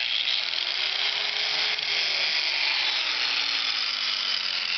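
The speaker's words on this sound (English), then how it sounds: "What I've got here is a Chicago Electric angle grinder." Chicago Electric angle grinder cutting into the head of a stripped bolt, a steady high-pitched grinding whine that runs loud and unbroken throughout, with a slight drop in motor pitch as the disc bites.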